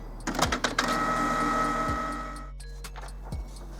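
A Canon Pixma MG5750 printer runs its printhead cleaning cycle: mechanical clicks and thumps, a steady humming motor whir, then quieter intermittent ticks, with a low mains hum underneath and no talking.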